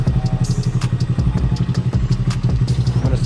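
A Honda Grom motorcycle fitted with an upgraded clutch with 60% stiffer springs and an oil pump mod, ridden with its engine chugging in a steady, throbbing, rapid rhythm, loud and close throughout.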